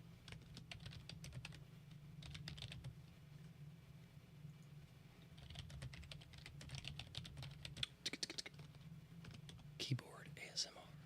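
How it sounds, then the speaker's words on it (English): Soft typing on a computer keyboard, with steady clusters of faint key clicks over a low hum that grow busier toward the end; quiet voices can be heard. "Keyboard ASMR."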